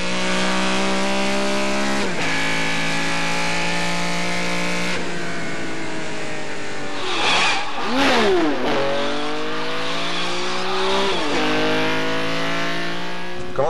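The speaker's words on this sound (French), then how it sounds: "on sente la puissance du moteur, puis les vitesses qui s'enclenchent" A Ferrari engine revs hard and climbs through the gears, each upshift dropping the pitch before it rises again, loud and close with a brief tire squeal partway through and no talking.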